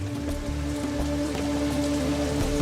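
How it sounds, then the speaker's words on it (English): Heavy monsoon rain in one of the wettest places on Earth, a dense steady patter of raindrops on surfaces with a faint sustained tonal hum underneath. "the wettest place on planet Earth, averaging over 432 inches of rain each year"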